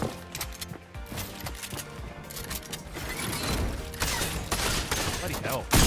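Gunfire sprayed at built walls in Fortnite Chapter 2, with steady bursts of shots and impacts over a busy game mix, and players talking throughout.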